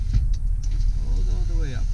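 A power window motor in a 2001 GMC Yukon XL SLT 4WD whirs as the glass travels down, a short rising whine over a steady low engine rumble, with voices in the background.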